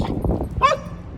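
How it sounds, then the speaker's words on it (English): A single dog bark rings out in the background at moderate distance, over low room noise with faint indistinct sounds before it. "and that's my dog barking."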